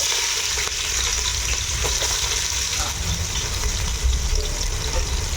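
Onions fry in hot oil in a pot for egg dum biryani, producing a loud, steady, close bubbling sizzle with occasional stirring.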